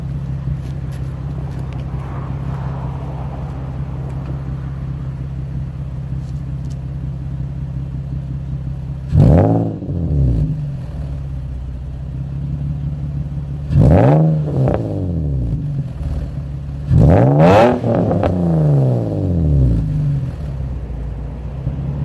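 Nissan 350Z engine idling with a steady low rumble, broken by three sharp throttle blips that rise and fall quickly, close and loud, in a snowy outdoor setting.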